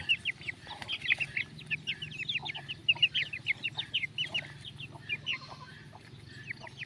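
Chickens cluck repeatedly in a busy flock, short overlapping calls continuing throughout over a low steady background hum.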